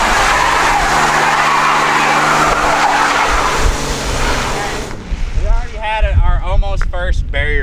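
A diesel burnout truck spins its tires in a loud, continuous screech with engine roar for about five seconds, then the squeal cuts out and excited voices shout nearby.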